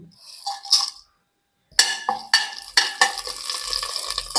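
Whole spices (cinnamon, clove, cardamom, bay leaf and fennel) frying in groundnut oil in a pan, a light sizzle with stirring clinks and scrapes, and a brief quiet gap before louder stirring and crackling resumes.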